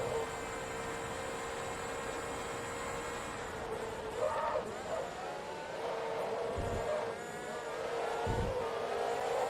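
Race car engines of a Bentley and a Ferrari in the Forza Motorsport 2 video game, a steady high-revving drone with whining harmonics that rise and shift, lightly fluctuating throughout.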